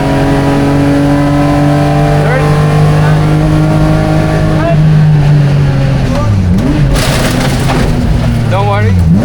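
A Ford factory competition race car, stripped of ABS and traction control, roars loudly and close, its engine note holding high then dropping and climbing through shifts, with a burst of harsh noise as it accelerates hard.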